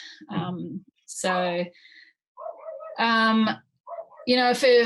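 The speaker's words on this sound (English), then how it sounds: "I hope you can't hear that dog barking." A dog barks in several short bursts, fairly close and loud, with brief pauses between them.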